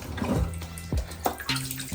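Fabric is pushed into water with soft sloshing and dripping splashes at an uneven pace, close by and fairly quiet.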